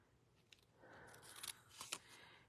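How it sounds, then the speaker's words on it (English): Scissors snip through paper during card making, giving a few quiet, crisp cuts in a close, hushed setting. "I'm going to get a pair of scissors. And I'm just going to snip that"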